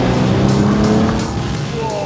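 A luxurious British car with an all-new 600 horsepower W12 engine accelerates hard, a loud, close engine roar that rises with gear changes and tire noise.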